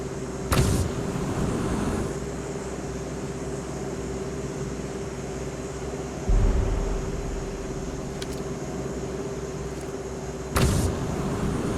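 A car engine drones steadily in the battle royale game BGMI, a constant loud vehicle hum with a few sharp thuds and clicks breaking through at intervals.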